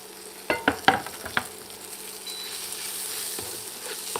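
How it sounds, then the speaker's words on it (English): Leeks go into a hot pan for a leek risotto, a few sharp scrapes and clatters at first, then a steady, even sizzle that carries on alone. "I'm going to add my leeks, and we'll cook them quickly."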